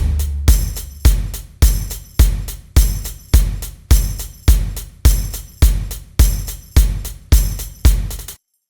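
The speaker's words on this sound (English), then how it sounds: "And then we also layered in a tambourine." A steady drum loop with a tambourine layered over closed hi-hats, a punchy kick on each beat under bright shimmering jingles, repeating evenly and loud with no voices, then cutting off cleanly at the end.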